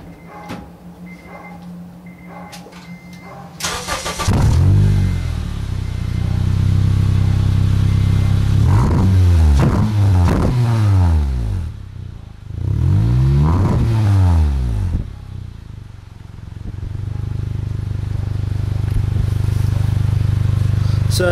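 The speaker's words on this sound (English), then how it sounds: "let you hear the difference between without and with. So I'm going to crank it up" Honda Element fitted with a Megan Racing N1 exhaust, idling close by and then revved in several sharp bursts that rise and fall, settling back to a steady idle between them, with no talking.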